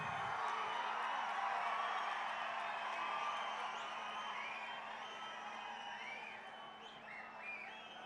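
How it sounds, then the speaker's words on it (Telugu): Large crowd at a BRS party rally welcoming new members, a broad, sustained wash of cheering and whoops heard from a distance that stays steady and fades a little toward the end, with no clear individual claps. "ఈరోజు మన పార్టీలో బీఆర్ఎస్ పార్టీలో చేరుకున్నందుకు గట్టిగా చప్పట్లు కొట్టి వారి స్వాగతం చెప్పాలి"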